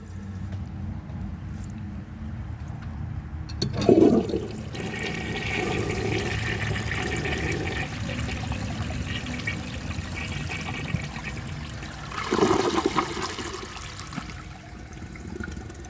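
A 1930 Eljer Sanus toilet flushes a dish towel: a sharp gush of water at the start, a long steady swirling rush and trickle, then a second surge near the end, close up with no speech.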